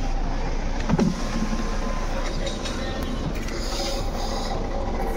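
A Jeep Compass engine idles with a worn alternator pulley, heard from outside the car as a steady, fairly loud mechanical drone with a faint whine that holds unbroken throughout.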